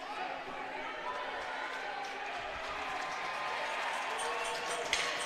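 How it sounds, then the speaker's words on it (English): Bulldogs fans at an NCAA men's hockey game against Stevenson University cheer in a sustained crowd roar and applause after the goalie's desperation save, with an announcer talking over it. "we hear the Bulldogs fans all cheer for Stewart"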